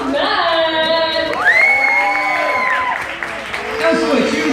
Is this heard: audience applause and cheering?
yes